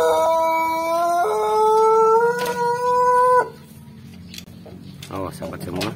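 A Pelung rooster gives one long, drawn-out melodic crow, loud and near, lasting several seconds with a clear tonal pitch before breaking off. A quieter background with faint sounds follows.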